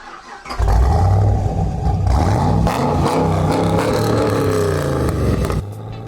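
A Chevrolet Camaro SS V8 roars to life and revs steadily, its deep rumble rising and holding before cutting off near the end; no talking.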